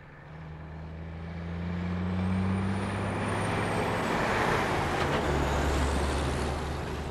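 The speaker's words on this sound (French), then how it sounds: "Le camion passe et s'éloigne." A heavy truck in the 1971 film Duel rumbles past close by, its engine drone swelling and then fading as it drives off, with a brief hiss of air brakes.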